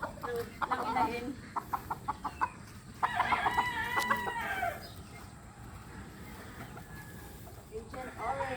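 A hen clucks in short repeated bursts nearby, mixed with louder squawking calls, over a soft outdoor background.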